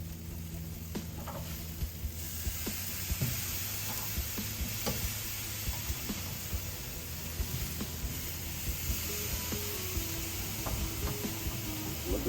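Spare ribs sizzle and fry on a smoker grill cooking direct over high heat, a steady close crackling hiss with small pops and faint scraping of the meat being turned.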